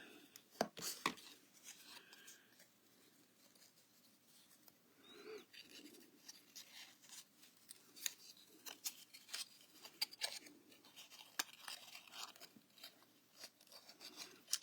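Scissors snip through Designer Series paper in quick, faint cuts scattered among soft rustling and handling noises, quiet and close with brief pauses between snips.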